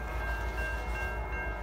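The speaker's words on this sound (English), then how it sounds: "Oh, the horn. It sounds different." A Heritage Unit locomotive rumbles past close by, its horn sounding in long sustained tones over the heavy low engine drone.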